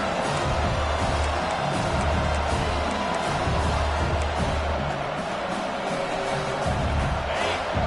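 In the College Football 26 video game, a packed stadium crowd roars steadily through a South Carolina home game against Miami. The cheering is loud and constant, with no talking heard above it.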